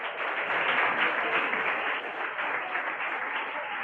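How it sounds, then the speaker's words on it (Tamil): A church congregation gathered for a Women's Day celebration applauds its pastor with steady, dense clapping from many hands, sustained and fairly loud for the whole stretch, with no talk over it. "கைத்தட்டிலாமா நம்மளுடைய சபையின் போதகருக்கு?"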